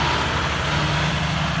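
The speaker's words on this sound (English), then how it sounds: "this is Graeme Rae's tractor here." John Deere 6155R tractor idling close by, a steady low mechanical drone with a faint pulsing hum, loud and constant, with no voices over it.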